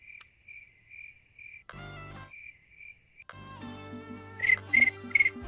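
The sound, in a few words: crickets chirping at night in a fishing video game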